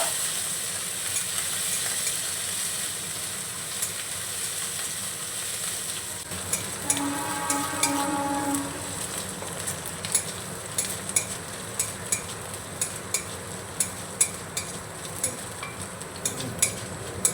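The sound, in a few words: crushed ginger stirred and fried with spices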